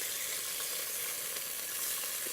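Bacon frying until crisp in a pan, a steady, dense sizzle with constant hiss and faint pops, close and continuous throughout without any talking.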